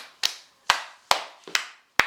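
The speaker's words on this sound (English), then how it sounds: "Knee, knee, clap, clap." Five sharp hand claps land one by one, spaced roughly half a second apart, crisp and close with short decays between them, during the hand moves of a Born To Hand Jive dance routine.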